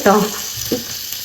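Onions frying in oil in a home kitchen, with a soft steady sizzle and a couple of short stirring or tossing sounds near the start and middle, close and fairly loud.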